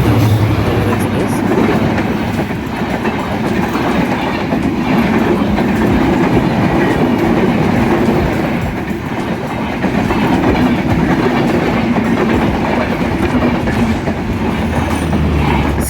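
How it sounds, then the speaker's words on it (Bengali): The 793 Up Panchagarh Express, hauled by a 6630 series American diesel locomotive, races past at high speed with a loud, continuous rumble and rhythmic wheel clatter that holds steady throughout. "6630 সিরিজের আমেরিকান লোকোমোটিভ নিয়ে ঢাকা থেকে সেরে আসা পঞ্চগড়গামী 793 আপ পঞ্চগড় এক্সপ্রেস অত্যন্ত দ্রুত গতিতে ছুটে যাচ্ছে পঞ্চগড় অভিমুখে"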